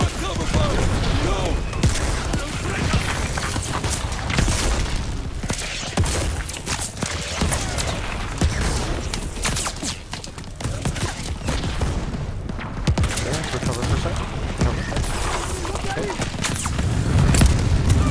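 Covering gunfire in the Call of Duty Vanguard campaign on the Numa Numa Trail: loud, dense, continuous rifle and machine-gun fire with booming blasts throughout, while voices shout over the battle.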